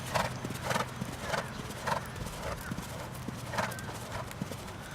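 A rescue horse trots in an arena during a riding lesson, its hooves giving a steady rhythmic clip-clop at moderate distance, faint and even, with a low background hum.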